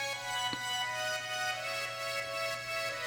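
A quiet synth pad with a string-like tone holds steady, layered harmonies in a drum and bass bootleg of a Kingdom Hearts song. It sounds faint and smooth, with no voices over it.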